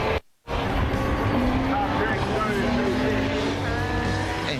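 Two turbocharged four-wheel-drive cars, a GTR and a VR4, race each other in an import car racing series, with a continuous loud engine roar and a brief dropout at the start.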